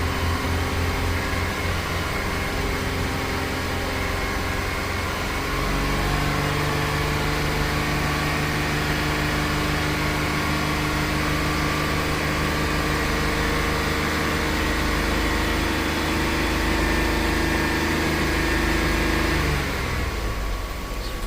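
A 2006 Pontiac Montana with a 3.5L V6 and lean and mass-airflow fault codes idles steadily, giving a close, continuous engine hum whose tone shifts slightly a few times.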